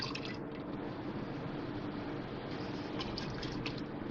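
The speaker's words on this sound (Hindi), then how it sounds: "अब मैं 1 कप पानी डाल रही हूँ इसमें।" A cup of water poured into a pot of browned beef for chana dal gosht, a soft continuous splashing and trickling, close and fairly quiet, with no talking.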